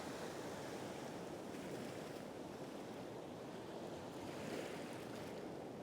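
Sea waves surge continuously onto a Scottish beach with a strong riptide at sunrise, a steady roaring wash of surf mixed with wind buffeting the microphone, close and loud throughout with no talking.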